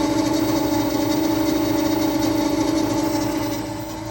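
An electric yacht motor running at about 1000 RPM, giving a loud, close, steady whine and hum with strong even tones that eases slightly at the end, with no talking.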